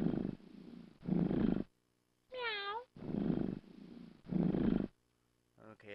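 A cartoon cat purrs in the children's computer game Kid Works 2, with loud rumbling bursts broken by short pauses, a rising and falling tonal meow-like call in the middle, and another sound starting at the end.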